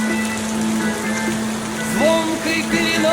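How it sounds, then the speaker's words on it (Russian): Steady rain falls continuously, a dense even hiss of drops on a surface heard close and loud throughout, with a few faint tonal whines or bird-like chirps rising briefly near the end. "дождь"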